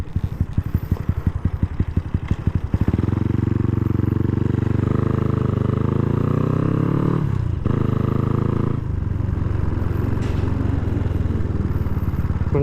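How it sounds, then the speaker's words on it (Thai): Honda Wave 125 motorcycle fitted with a titanium exhaust, ridden through town: a steady, loud close-up engine drone with a pulsing idle at the start, then rising revs as it accelerates, briefly dipping before pulling again. "ผมลองเอาท่อไทเนียมออกมาขี่ในเมืองดู"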